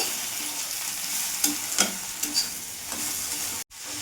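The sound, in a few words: stirring frying okra curry with cumin and chili powder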